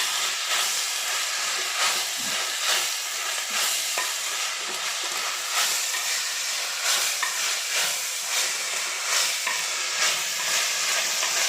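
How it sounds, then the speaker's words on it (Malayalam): Onions and potatoes sautéing with salt in a pan for a home-style roasted-coconut chicken curry, a steady close sizzle and hiss running throughout with scraping stir strokes repeating every second or so, no talking. "ഇതെല്ലാം കൂടെ നന്നായിട്ടൊന്ന് വഴറ്റിയെടുക്കാം."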